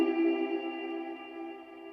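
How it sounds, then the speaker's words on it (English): An electric guitar chord rings out through a Strymon Flint with an excessive, very long reverb tail, a steady washed-out sustain fading slowly with no attack, played alone. "it's a very long reverb tail"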